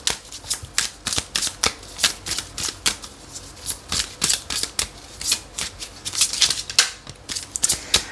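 Tarot cards being shuffled make rapid, crisp riffling bursts in a quick irregular rhythm, close and fairly loud, repeating steadily throughout with no talking.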